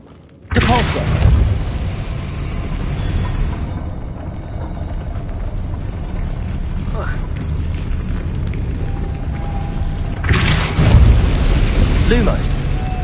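A Depulso force spell cast in the video game Hogwarts Legacy, a sudden loud burst followed by a sustained rumbling whoosh, with a second blast near the end.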